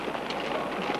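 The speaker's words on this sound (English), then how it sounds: "Let's get out of this rain." Rain falling during a storm outdoors near an oil fire, a steady dense hiss of drops that stays loud and even throughout.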